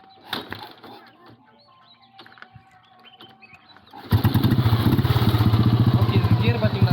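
An old Royal Enfield Bullet motorcycle is kick-started. Quiet clicks and rustling, with a voice, give way to the engine firing up and settling into a loud, steady, close thumping idle.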